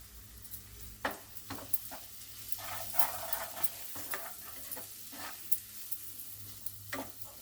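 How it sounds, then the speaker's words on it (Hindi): Ground coriander, turmeric, red chilli powder and green chillies frying in a pan for a palak curry with curd and cream, a soft steady sizzle broken by scraping stirs, close up and with no talking. "इन सब मसाला का भून लेंगे हम"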